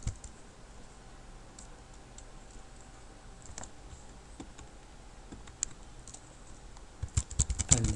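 Quiet, steady typing on a computer keyboard while writing HTML and CSS code, with soft irregular key clicks throughout that grow into a denser, louder flurry near the end.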